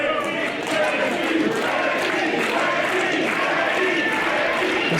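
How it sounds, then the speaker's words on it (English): Wrestling crowd at an Inspire Pro championship match, Ricky Starks versus Carson, roaring and cheering in a steady, dense wall of noise that carries through the whole stretch without letting up. "This crowd trying to rally behind this is the Inspire Pro champion."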